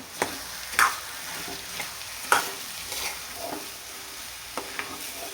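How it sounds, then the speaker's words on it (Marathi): Rice with green chilli masala is stirred in a kadai: irregular scraping strokes of a spoon against the pan over a low, continuous frying sizzle. "आणि आता हे सगळं मिक्स करून घेऊया."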